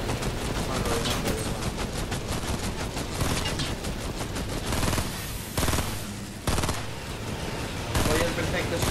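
Rapid gunfire and explosive bursts from a Fortnite Air Royale match, loud and dense throughout with brief gaps, mixed with game sounds under an excited Spanish-speaking voice.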